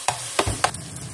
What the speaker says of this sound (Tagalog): nagpiprito siya ng konti.